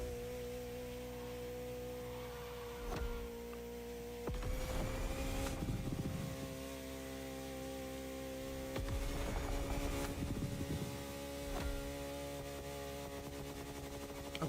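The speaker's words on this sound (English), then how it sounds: "I always think this car sounds like a motorbike." A car engine in the racing game The Crew Motorfest drones at a steady pitch with a buzzy, motorbike-like tone, rising in a few brief surges of throttle and shifting, then settling back to an even hum throughout.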